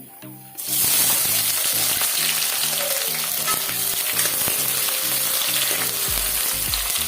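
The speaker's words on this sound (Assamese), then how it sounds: "আৰু এতিয়া দি দিম পিঁয়াজখিনি" Onions drop into hot mustard oil and burst into a loud, close, continuous sizzle after a short quieter start, with faint stirring beneath and a repeating tonal pattern underneath.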